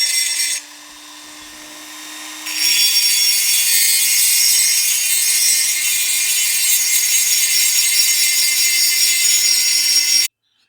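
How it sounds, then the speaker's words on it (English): A single cut carbide burr grinds the cylinder lip of a Stihl MS881 chainsaw, a loud, steady high-pitched whine that starts softer, then climbs to full intensity and holds for several seconds before cutting off abruptly. "This is a single cut carbide burr just to get this lip lower than the surface."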